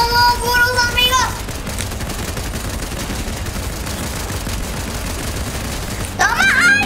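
Sustained gunfire in the video game Fortnite, a continuous rattling fusillade of rapid shots at loud, even level, with a player shouting excitedly at the start and again at the end.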